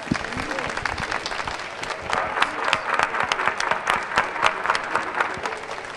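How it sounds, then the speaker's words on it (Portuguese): A loud, dense round of applause from an audience at a tech conference event, sustained clapping with scattered voices throughout. "Pedir novamente uma salva de palmas."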